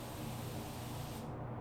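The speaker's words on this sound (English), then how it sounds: "I'm spraying it a little bit wetter now" A Porphis PRD 717 split-nozzle spray gun lays down a wet second base coat, giving a steady, loud, close hiss of atomized paint that cuts off abruptly near the end.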